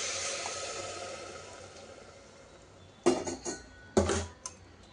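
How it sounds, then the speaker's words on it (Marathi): Boiled hot water is poured into fried rice with coriander for masur pulav, a steady hissing pour lasting a few seconds, followed by a few sharp clanks of a pot and utensils. "आता याच्यात उकळलेलं गरम पाणी घालायचं आहे."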